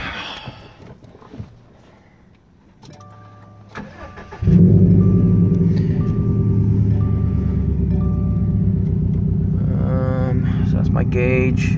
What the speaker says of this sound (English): let's go ahead and start the car, see what it sounds like.